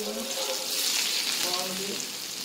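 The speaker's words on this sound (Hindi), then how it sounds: "फिलिंग रेडी करने के लिए मैंने कढ़ाई में तेल ले लिया है, इसमें मैं सबसे पहले अदरक डाल रही हूँ" Ginger hisses and crackles steadily in hot oil in a kadhai, a dense close sizzle that holds for a couple of seconds while faint tonal background sounds drift underneath.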